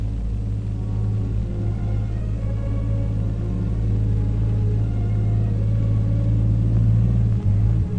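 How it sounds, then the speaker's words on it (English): A truck's engine rumbles steadily and fairly loudly as it approaches a depot guard post, a continuous low drone that swells slightly as it nears, with no voices. "As the familiar truck approaches, the guard gives it only a casual look."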